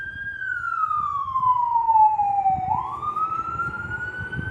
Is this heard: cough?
no